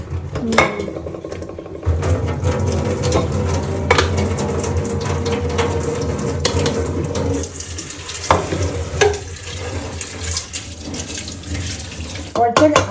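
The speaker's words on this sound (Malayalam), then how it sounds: "വെന്തിട്ടുണ്ട് ഊറ്റിക്കൊണ്ട് വരാം" Water pouring and splashing from a pot of boiled tapioca as it is drained, a steady close rush with clinks of metal pans, continuing for several seconds before tapering into lighter trickles and clatters.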